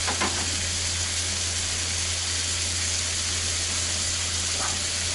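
Beef chuck flap steak searing in butter in a pan, a steady, even sizzling hiss that runs the whole time over a low hum, with no one talking.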